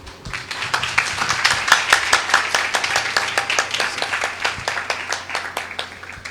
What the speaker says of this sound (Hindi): जैसे ही पास्टर आगे आएंगे, एक अच्छी ताली बजाकर हम उनका स्वागत करेंगे।